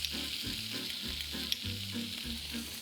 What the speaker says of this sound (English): I want to sear the shrimp